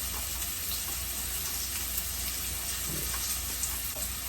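Potatoes frying in a pan over medium heat, giving a steady, even sizzle that stays close and unchanging throughout with no voices over it.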